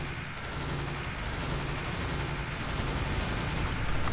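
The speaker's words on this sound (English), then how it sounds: "What are you shooting?" Gunfire in the video game Roguepoint comes as a constant, loud, dense barrage of shots and booming blasts, a harsh wall of noise with no pause, heard close and without speech.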